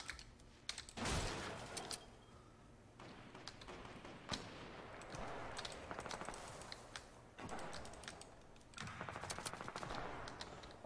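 Gunfire crackles all around in Fortnite, with bursts of rapid shots and scattered single cracks coming and going in waves at moderate distance, quiet overall, with no voices.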